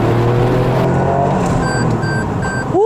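A Toyota GR Yaris engine revs in first gear up toward 5,000 rpm, a loud steady droning hum with an electronic chime beeping repeatedly over it near the end.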